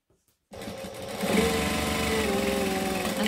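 A sewing machine runs steadily as it stitches over a vinyl pouch seam, a close, continuous mechanical whir with rapid needle chatter that starts after a brief silence and grows slightly louder.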